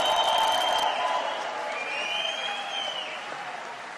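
Crowd applause at a Bernie Sanders free-tuition announcement fills the space, loudest at the start and then settling into a steady, sustained wash of clapping.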